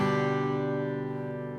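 A guitar chord, G over B with the last string muted, is strummed once and rings out steadily, close and clear, fading slowly with no voice.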